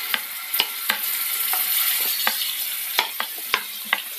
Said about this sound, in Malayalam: ചൂടായ എണ്ണയിലേക്ക് നമുക്ക് മീൻ കഷ്ണങ്ങൾ ഇട്ട് കൊടുക്കാം.